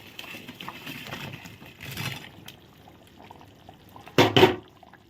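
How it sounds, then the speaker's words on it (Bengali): Fried chana dal pieces tipped into simmering spiced gravy land with a short, loud wet splash and slosh near the end, after quieter stirring and bubbling. "আর এগুলো ভেজে রাখা সব ঢেলে দিচ্ছি"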